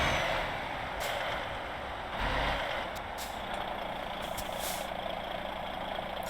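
A heavy truck in Euro Truck Simulator 2 with dynamic suspension physics picks up speed, its steady engine drone rolling continuously with a brief air-brake-like hiss near the start.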